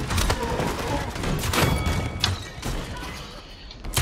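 Bursts of rapid gunfire crack and thud over a dense, noisy soundscape in the game Paladins, on the Serpent Beach map, with a few sharper single shots standing out.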